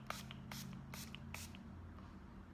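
Bursts of Makeup Revolution Pro Illuminating setting spray misted from a pump bottle, several short hissing puffs close by over a steady low hum, with no talking.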